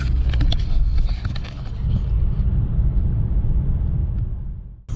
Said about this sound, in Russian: Вот так разогнался 50. Все. О, 2000 оборотов. И едешь.